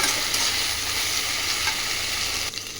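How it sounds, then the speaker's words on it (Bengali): A ground paste of ginger, garlic, chili and cumin frying with onions in a pan gives off a steady, loud, even sizzle with no talking, easing slightly near the end. "যে এটা আমি ভালো করে কষিয়ে নেব।"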